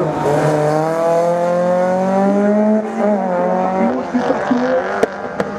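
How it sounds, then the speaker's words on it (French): A Peugeot 306 race car runs a slalom course at Lessay, its engine loud and close with rising and falling revs through gear changes, ending in a couple of sharp clicks. "le concurrent 84, Michael Engel, sur cette magnifique 306 en piste"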